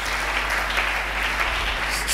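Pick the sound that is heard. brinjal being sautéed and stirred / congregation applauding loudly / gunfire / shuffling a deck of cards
congregation applauding loudly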